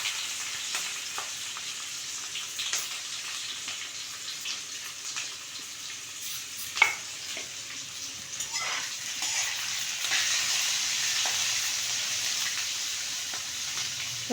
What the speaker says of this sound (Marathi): आता कढईमध्ये थोडंसं तेल गरम करून ही आपली स्टफ केलेली भेंडी त्याच्यामध्ये टाकून घ्यायची